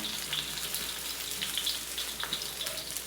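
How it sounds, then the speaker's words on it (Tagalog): Dried shrimp (hibe) sautéing in a pan, a steady close crackling sizzle with light popping throughout. "Pwede natin isama sa gisa itong hibe."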